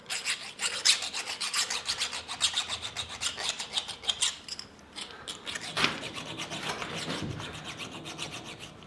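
A hand file rasps steadily at a hole in a Suzuki GSXR 1100 clutch part being enlarged, with quick repeated strokes, close and fairly loud, and a short pause partway through; nobody speaks.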